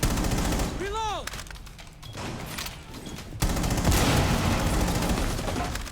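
Gunfire rattles in the Rainbow Six Siege video game: loud, rapid shots and bursts, a brief lull in the middle, then a heavy sustained volley, with players talking over the action.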